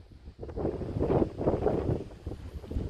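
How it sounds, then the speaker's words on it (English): Wind gusts buffet the microphone on a windy hilltop above the Causeway coast, a low rumbling rush that swells and fades over a few seconds. "It's a bit windy up here."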